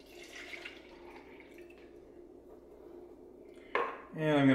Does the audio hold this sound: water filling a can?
yes